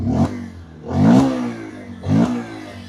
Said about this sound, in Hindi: आइडियल कंडीशन पर इंजन साउंड सुनो, एग्जॉस्ट नोट।